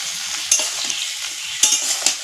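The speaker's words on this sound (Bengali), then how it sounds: "তো একটু নুন দিয়ে একটু নাড়াচাড়া করছে" Homemade mango pickle is stirred in a pan with salt, a constant bright hiss underlaid by soft scraping and a few crisp clicks of the spoon, close and without talk.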